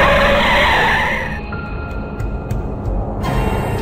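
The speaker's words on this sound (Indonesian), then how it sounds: "menginjak pedal rem dalam-dalam" A car skids as the driver brakes hard, a loud, close tire screech with broad hiss that fades after about a second and a half into quieter rumbling road noise.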